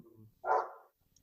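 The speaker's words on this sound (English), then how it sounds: "just excuse my dog" A single dog bark rings out close and fairly loud, briefly breaking a quiet indoor stillness before fading within about half a second; no one speaks.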